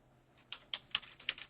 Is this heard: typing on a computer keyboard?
yes